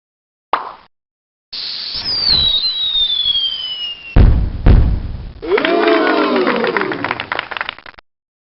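Fireworks effect from the Mighty Math Number Heroes fraction game, with a whistling launch, a sliding tone, a hard thump and then a crackling burst with swirling tones, all loud and close, with no speech.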